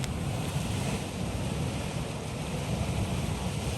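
Water from a reservoir dam outlet at low water rushes in a steady, broadband roar, close and continuous with no voices.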